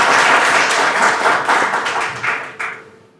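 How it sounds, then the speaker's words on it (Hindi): An audience at a Kripalu Care Foundation conference breaks into loud, close applause that rolls steadily before thinning out and tapering to a few scattered claps and silence. "आप सबसे निवेदन है एक बार जोरदार तालियां बजा के एटलीस्ट इनका आभार कीजिए"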